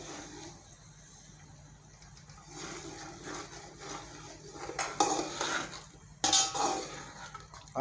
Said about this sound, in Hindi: मसाला लेके हम इसकी 5 मिनट भुनाई करेंगे।